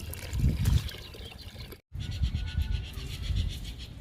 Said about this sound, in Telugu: ఇప్పుడు ఈ లిక్విడ్ని పూల మొక్కలకి ఇచ్చేద్దాము